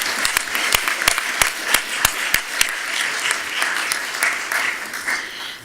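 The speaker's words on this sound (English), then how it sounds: "clap for him, applaud for him in absentia for his contribution" Audience applause at an urban health conference closing ceremony, with a few sharp individual claps standing out over a dense, sustained wash of clapping that fades toward the end.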